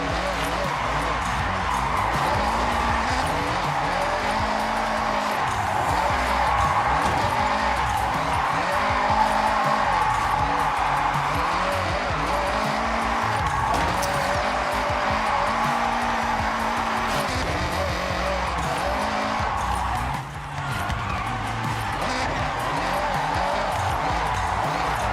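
Racing video game car under constant engine drone with scrubbing tire noise as it slides through a corner, steady and loud throughout, a brief dip near the end, with someone talking over it.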